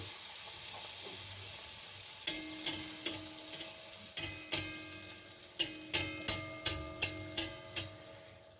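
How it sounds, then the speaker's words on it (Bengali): Sesame-filled pitha (malpua) frying in hot oil, giving a steady soft sizzle under a run of sharp, evenly spaced clicks and taps like a utensil knocking the pan, with no talking. "এই যে আমি এখন তিলের পিঠাটা ভাজছি"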